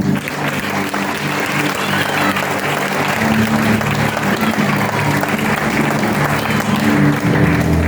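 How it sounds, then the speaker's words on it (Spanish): A church congregation applauds for the whole stretch, a dense, loud, steady wash of clapping from many people filling the room. "Dale un aplauso al Rey."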